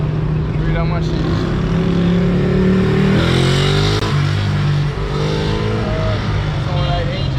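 A loud Yamaha R6 motorcycle engine drones and revs steadily throughout, with shifting pitch as it accelerates, while voices talk faintly underneath, in Jamaica.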